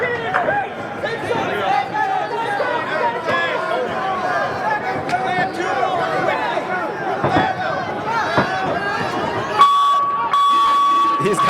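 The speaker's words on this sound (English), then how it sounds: "Crowd on their feet cheering for John Connor." Fight crowd at Island Fights 71 roaring and cheering continuously at the close of a bout, a dense wash of voices with a commentator talking over it and a steady electronic beep or buzzer tone near the end.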